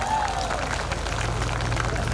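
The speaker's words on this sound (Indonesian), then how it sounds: "Tepuk tangan untuk kita semua." A large outdoor crowd of ride-hailing drivers in Pekanbaru claps, mixed with murmuring voices and a low steady hum, the applause sounding diffuse and moderately loud.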